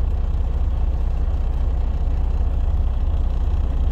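A truck engine running loud and close, a steady low rumbling drone with no clear rise or fall, alone without speech.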